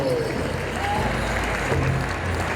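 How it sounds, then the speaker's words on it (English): An audience at a Mall of America pow wow exhibition applauds Miss Indian World Danielle Tashina Finn, a steady broad rush of clapping and crowd noise with faint voices mixed in. "Let's give a big round of applause for Danielle Tashina Finn"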